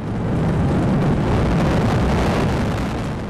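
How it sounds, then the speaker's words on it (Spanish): Massive atomic bomb detonation over the Japanese city of Hiroshima, a sustained deep roaring rumble of broadband noise that stays loud and steady throughout, with no voices. "Una exorbitante explosión"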